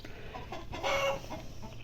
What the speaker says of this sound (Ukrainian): Розкричався півень.